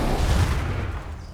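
A dragon's fire breath attack in Divinity Original Sin 2, a loud, rushing, rumbling blast that bursts at full strength and then fades away over about a second.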